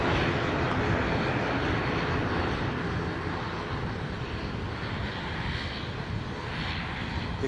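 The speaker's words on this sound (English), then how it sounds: "welcome in this ATR 42 into Edinburgh Airport." ATR 42 turboprop airliner arriving at Edinburgh Airport: a steady, broad engine roar that is moderately distant and fairly faint, holding evenly over several seconds with no talk.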